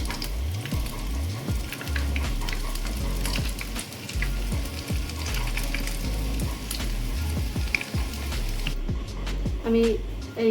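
Semolina dough pressed through a hand grater into hot oil, frying with a steady sizzle and repeated soft drops and scrapes near at hand, a voice briefly speaking over it.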